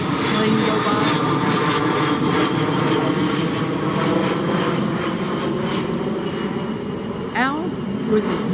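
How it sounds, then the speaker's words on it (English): A propeller airplane drones steadily overhead, loud and continuous throughout, with a brief faint squeak near the end. "Let the plane go by."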